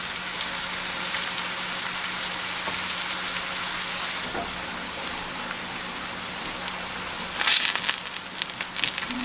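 Squash and new potatoes frying in a pan on a stovetop, giving a steady close crackling sizzle throughout, with a brief louder burst of spattering near the end.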